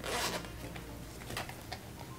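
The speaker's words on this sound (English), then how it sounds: "And of course it does have a zipper closure." A Team USA Hello Kitty bag is unzipped in one quick, close, raspy zipper pull lasting about two seconds, with no talking.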